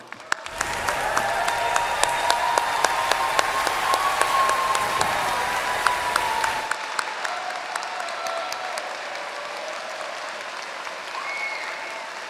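A large graduation audience gives sustained applause at the Rice Jones Graduate School of Business MBA commencement in 2025, dense and steady clapping that fills the hall for about six seconds before easing into a lighter, thinner patter.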